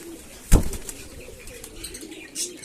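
Pigeons in a loft at feeding time, with a sudden loud burst of flapping wings near the start and soft cooing and calls scattered afterward, close by with no talk.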